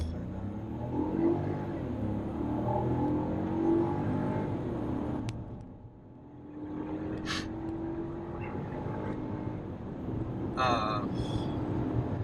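A 2017 Ford Fiesta 1.0-litre EcoBoost turbo engine revs and accelerates steadily, its drone rising in pitch, with a driver talking over it throughout.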